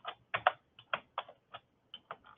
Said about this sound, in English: Type keyway, always capital.